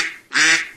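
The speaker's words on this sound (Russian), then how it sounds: "Так звучит панамская утка." A Panamanian duck giving two quacks, a short nasal call followed by a louder, longer harsh one, close and clear with no talk.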